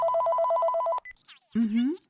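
A telephone bell rings in a fast, repeating trill for about a second, loud and close, followed by a short beep and a voice.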